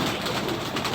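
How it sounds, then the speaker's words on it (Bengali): Racer pigeons coo softly and steadily at close range, a low murmuring drone with faint pulsing that runs through the whole moment without a break. "রেসার পাখি দেখবি"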